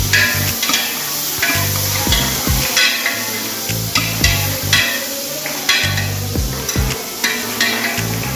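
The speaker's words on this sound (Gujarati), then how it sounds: "તો ડુંગળીને આપણે થોડી વાર સોટા કરશું, ફ્રાય કરશું તેલમાં મિત્રો." Finely chopped onions fry in hot oil with a continuous loud sizzle, interrupted by repeated scraping and knocking strokes of a spoon stirring the pan, with no talk.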